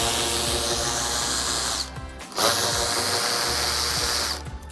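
A power drill running a 7mm socket to back out screws on the lower trim of a 2007-2013 GMC Sierra 1500, whirring steadily and close, with a brief pause near the middle before spinning up again.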